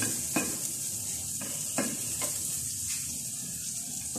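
Pork sautéing with anchovies in hot pork fat, a steady close sizzle broken by several sharp scraping stirs of a utensil against the pan.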